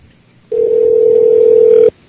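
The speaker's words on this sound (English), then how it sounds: "I hear a phone ringing." A single steady telephone tone rings out loud and clear for over a second, starting and stopping abruptly, with no talk.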